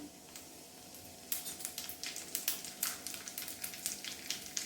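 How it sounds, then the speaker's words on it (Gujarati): Coriander-cumin powder hits hot oil in a tava for sabudana khichdi, and a quiet hum breaks into a sudden close, crackling sizzle that keeps popping steadily. "ત્યારબાદ તેમાં આપણે અડધી ચમચી જેટલું ધાણા જીરું નાખીશું"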